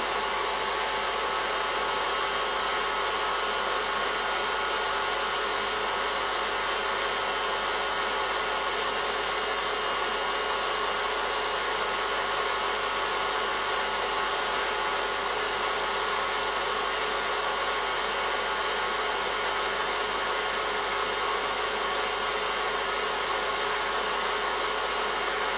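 An electric mixer beats meringue in a kitchen, a steady, unbroken motor whir that holds the same pitch and loudness throughout, with no talking.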